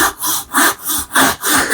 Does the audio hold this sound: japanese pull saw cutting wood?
yes